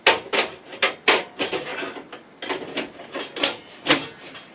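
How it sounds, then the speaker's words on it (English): An old HP computer case has its top cover closed and fitted: a string of close, sharp plastic-and-metal clacks, snaps and brief scrapes in an uneven rhythm, with no talk. "now all we do is close this and then pop the top cover on"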